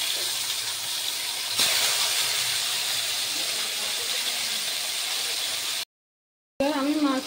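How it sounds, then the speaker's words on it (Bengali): A fish head fries in hot oil in a frying pan, giving a steady loud hiss and sizzle that runs almost unbroken, then cuts out briefly before resuming. "তেল গরম হয়ে গেল। এবার আমি মাছের মাথাটা ভালোভাবে ভেজে নেব।"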